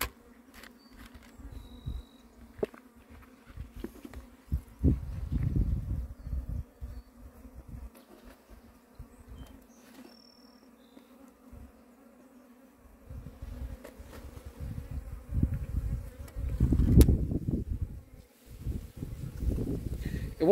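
A swarm of Apis honeybees buzzes during a capture, a steady low drone with louder surges as bees pass close, heard outdoors with no talk.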